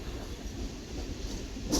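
A Vande Bharat express train passing, a steady low rumble of rolling wheels and carriages at moderate distance, fairly quiet and continuous with no voices.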